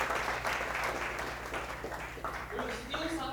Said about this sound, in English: Give you a round of applause, Josh.